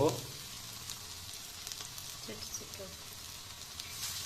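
Lentil fritters (dal bora) frying in hot oil in a home kitchen, a continuous close sizzle and hiss with a louder burst at the start, a few faint clinks and stirring noises over it.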